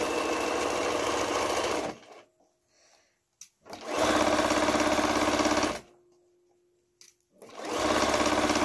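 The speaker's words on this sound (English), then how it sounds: "I'm going to start sewing there, forwards and reverse as before." A sewing machine stitches in a lapped zipper on an old-fashioned zip fastener, running forwards and in reverse in three loud, rapid bursts separated by short quiet pauses, close and without talk.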